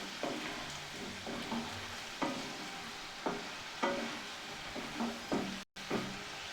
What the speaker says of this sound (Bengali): আর একটু ভাজবো আমি 1 মিনিট মতো